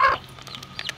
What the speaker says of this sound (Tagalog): Dami na po tayong sisiw.